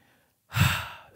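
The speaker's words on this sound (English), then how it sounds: "Strong breath." One strong, forceful exhale during a seated chair workout, a short breathy rush after a moment of near silence, close and clear.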